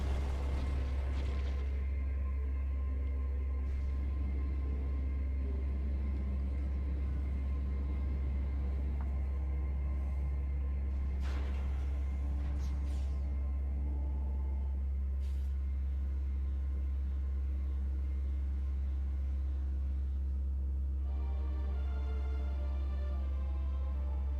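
Rough landing of a spaceship struck by purple lightning in Metroid Prime 2, heard as a steady, heavy low rumble throughout, with brief crackling bursts near the middle and a shift in tone toward the end.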